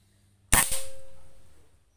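A single air rifle shot fired with boxed pellets during a grouping test, a sharp close crack followed by a brief metallic ring that fades over about a second in an otherwise quiet setting.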